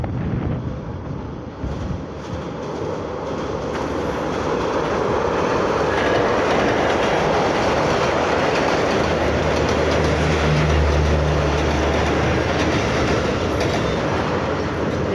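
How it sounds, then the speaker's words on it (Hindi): The 150 Down Mehran Express, a short seven-coach passenger train travelling at around 100 km/h, rumbles across a long bridge in Pakistan, giving a loud continuous roar with rhythmic wheel clatter, and wind buffets the microphone. "देख सकते हैं ये ब्रिज पे इंटर हो रही है, 150 डाउन मेहरान एक्सप्रेस"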